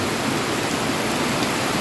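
Heavy rain pours steadily during the rainy season, with water running off a roof's eaves, a dense, loud, unbroken hiss with no voices.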